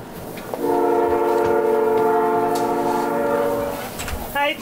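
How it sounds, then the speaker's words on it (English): A passing local train's horn sounds steadily for several seconds, loud and sustained with layered tones, over low rumbling background noise before fading out. "And there's the local train passing by."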